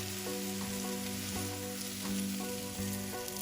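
Zucchini and mixed vegetables stir-fried with seasoning sauce in a pan, a steady close sizzle with periodic stirring scrapes throughout, no talking.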